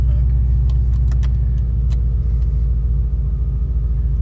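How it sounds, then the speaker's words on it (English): A 600hp Chevrolet SS engine idling with a deep, steady rumble close by, with a few light clicks and jingles on top throughout. "let's get the car started."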